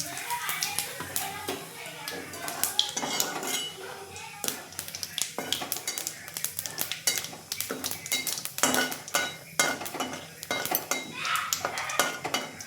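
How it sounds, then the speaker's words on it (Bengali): Dried chilli and panch phoron fry in a pan, a soft sizzle beneath frequent clattering taps and scrapes of a utensil against the pan, with faint voices in the background. "লাল লাল করে ভাজতে হবে পাঁচফোড়ন"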